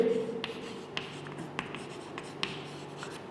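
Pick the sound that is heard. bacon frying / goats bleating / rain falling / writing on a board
writing on a board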